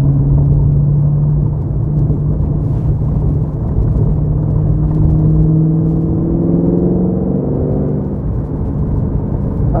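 A 2005 Ford GT with a Heffner supercharger and over 800 hp drives along with a loud, continuous low engine rumble, heard from inside the car, a tone rising and falling gently, with no talking.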